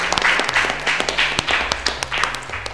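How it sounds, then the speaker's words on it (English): An audience claps for a quiz team at a Republic Day quiz event: dense, steady applause close by, with a low droning hum underneath. "Give them a big applause again."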